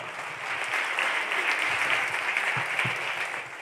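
Concert audience applauding a tenor at a regional Ligurian artists' competition final, dense steady clapping from many hands filling the hall, sustained throughout with no talk over it.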